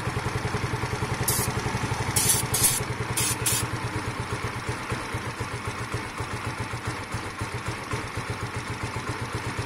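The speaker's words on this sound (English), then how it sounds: "Engine went a bit lower there." A Sinnis Harrier 125cc motorcycle with a carburettor fault idles steadily up close, its fast even single-cylinder putter continuous throughout, with a few brief hissy bursts early on and the engine note sagging slightly lower partway through.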